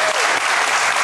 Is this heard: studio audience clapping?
yes